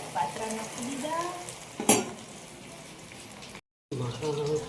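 Patra slices fry in a pan with crackling sizzle and spoon scraping, one sharp clatter midway and a brief dropout near the end; faint voices murmur in the background.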